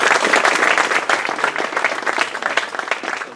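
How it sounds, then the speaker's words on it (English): A full round of applause from the crowd at the Great British Hobbit League final awards, dense and continuous clapping that stays loud and sustained throughout. "So a big round of applause for this man."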